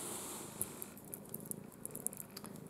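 A female cat purrs steadily and close, rubbing against someone indoors, with soft irregular rustles and light ticks over the continuous low rumble.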